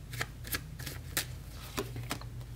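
Tarot cards handled and laid out on a surface, a string of quick papery flicks and slaps spaced irregularly, close and fairly quiet, with no talking.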